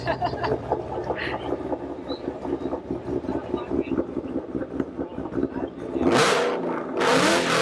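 Classic Ford Mustang at a car show, engine revved in two loud broadband bursts near the end after a stretch of idling rumble and crowd chatter.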